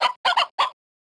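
Cartoonish chickens clucking in the Little Critter Egg Scramble video game: three short, bright squawking bursts close together, then silence.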